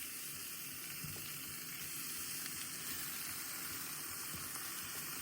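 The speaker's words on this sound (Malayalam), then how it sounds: "അപ്പോൾ നമുക്ക് ചിക്കൻ ഇട്ട് കൊടുക്കാം" Chicken pieces frying in browned masala for an Easter chicken roast, a steady, even sizzle with a constant hiss and no voices.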